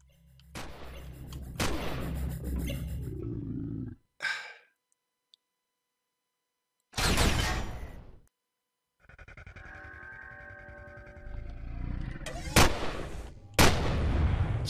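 Turrets firing in Empyrion Galactic Survival, several sharp loud shots between stretches of rumbling noise and near silence, with a gasp-like breath in the middle.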